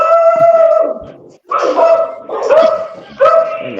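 Dog barking nearby, several loud, sharp barks and yips in separate bursts with short pauses between them, some trailing into a whine.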